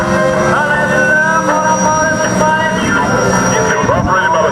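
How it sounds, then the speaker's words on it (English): A jet-powered police car running its jet engine at an airshow, a loud steady roar with a high whine and layered harmonic tones holding constant throughout, crowd noise mixed in underneath. "a 300 mile an hour jet-powered police car"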